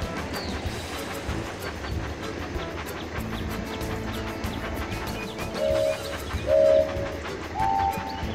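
A toy train in a Thomas & Friends video game rumbles along its tracks with a rhythmic clatter, and short electronic whistle tones chime near the end.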